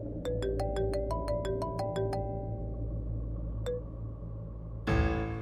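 A phone rings with a short melodic tone pattern repeated in quick rising notes, fairly close, then a pause, a single further note and a brief louder thump at the end.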